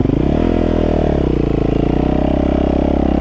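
A dirt bike engine revs steadily and loudly at close range, a continuous throaty drone with slight rises in pitch as the throttle is worked, the rider easing through the clutch to avoid stalling.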